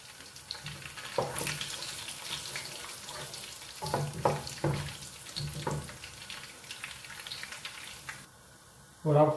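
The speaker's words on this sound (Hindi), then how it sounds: "और साथ हमने इसके अंदर डालना है साबुत ज़ीरा और धनिया। और इसको थोड़ा सा करना है फ्राई हमने।" Curry leaves with whole cumin and coriander seeds frying in a pan, a soft steady sizzle with a few sharper crackles and stirring bursts, ending in a louder hiss.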